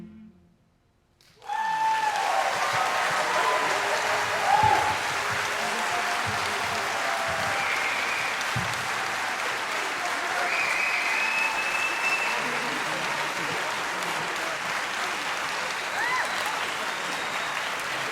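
An audience at a spring choir concert breaks into sustained, dense applause right after a song ends, loud and steady for the rest of the stretch.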